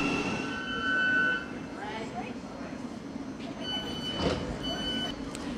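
A London Underground-area southbound train to St Pancras pulls into the newly opened Brent Cross West station, with a rumbling approach, squealing brakes and beeps, while a voice talks over it.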